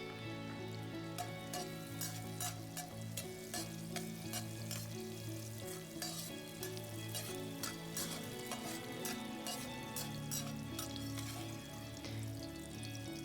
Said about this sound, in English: Add shredded red chili pepper. Keep stirring for about 1 minute.